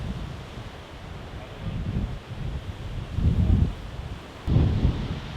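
Gusty wind buffets the microphone on a disc golf course at the European Championships, low rumbling surges rising and falling over several seconds.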